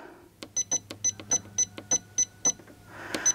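A sewing machine mechanism clicks and ticks through a run of about ten sharp, evenly spaced mechanical strokes, close and clear in a quiet room, ending in a brief rustle.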